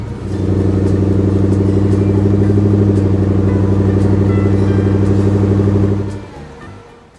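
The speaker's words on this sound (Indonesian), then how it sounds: "traktor merah sedang beraksi di tengah kebun yang hijau dan segar" A red tractor working in a green farm field runs its engine in a steady, loud, droning idle with rhythmic mechanical clatter, then the sound fades off near the end.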